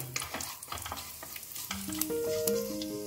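Four dried red chillies, two bay leaves and a spoon of cumin frying in hot oil, a soft crackling sizzle with stirring scrapes and a few brief tonal clinks.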